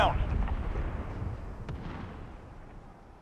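Heavy low booms of an airstrike in a video game rumble and roll out over a few seconds, loud at first then fading, with a faint radio-style voice near the start.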